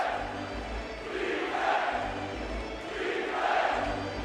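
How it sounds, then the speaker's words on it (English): Basketball crowd at Madison Square Garden during a Knicks–Lakers game chanting defense, two rhythmic swells of massed voices repeating the chant over steady arena roar, loud and continuous. "The crowd is chanting defense."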